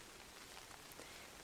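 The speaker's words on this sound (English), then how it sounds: "this is the first bit of rain" First rain of a hot, humid summer day patters steadily and faintly outdoors as a soft, even hiss of drops with no voices.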